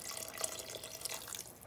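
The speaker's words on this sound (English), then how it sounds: "I'm gonna go in here now and add some hot water" Hot water poured into a cooking pot holding chicken, white kidney beans and bok choy, a faint, steady liquid splash and trickle running throughout.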